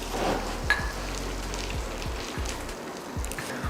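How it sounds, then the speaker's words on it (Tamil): Skin-on peanuts deep-frying in hot oil for Diwali mixture, a steady close sizzle and bubbling with soft periodic scoops and clinks of a ladle, no talk. "வேர்க்கடலையில் இருக்க தோலெல்லாம் எடுக்க தேவையில்லை, தோலோடையே பொரிச்சு எடுத்துக்கலாம்."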